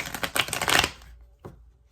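Tarot cards riffled and shuffled by hand in a quick burst of papery flutters, then a single soft tap a moment later, close and fairly quiet.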